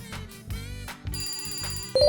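An Oppo smartphone ringtone plays loud and close as a bright, melodic electronic tune with rhythmic low pulses, a higher chime entering at the end.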